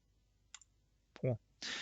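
A few sharp computer mouse clicks sound in a quiet room as a header style is chosen in LibreOffice Writer, with brief soft sounds between them.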